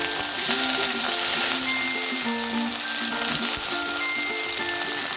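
Fresh coriander sautéing in hot oil in a pan for Maharashtrian matki misal gives a steady, close sizzle throughout, with faint tonal sounds underneath.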